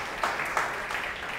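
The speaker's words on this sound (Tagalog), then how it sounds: "the best na palakpak para kay Jesus" A church congregation applauding during a Sunday worship service, with a brief burst of many hands clapping that swells and then fades, heard indoors over a low room tone.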